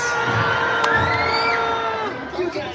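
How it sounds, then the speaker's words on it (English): Park guests at Magic Kingdom scream and cheer together with arms raised, a loud, close crowd roar of whoops and children's shouts that swells and then fades after about two seconds. "throw your arms up in the air and scream like this"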